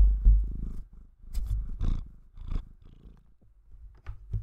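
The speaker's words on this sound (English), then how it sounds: "Can you guys hear her purring?" A domestic cat purring close up, a rhythmic low rumble in uneven bursts with short gaps between them, with no talking.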